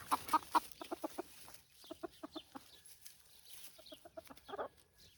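Chickens cluck nearby on a farm in quick repeated bursts with short pauses, fairly soft against a quiet outdoor background.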